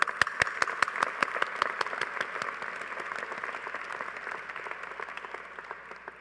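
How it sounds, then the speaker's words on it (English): Applause at a SUNY Broome 2023 commencement ceremony, opening with a few crisp, loud claps over a large crowd's dense clapping that gradually thins and fades. "So let's give them a round of applause."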